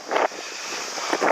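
Strong wind blows across the microphone by open water at a windsurfing spot, a steady roar with two louder gusty bursts at the start and end.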